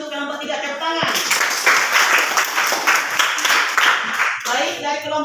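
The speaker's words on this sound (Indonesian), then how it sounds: "Terima kasih untuk kelompok 3, tepuk tangan." A classroom bursts into hearty clapping for a student group after their presentation, a steady wash of hands lasting a few seconds, with a teacher talking just before and after.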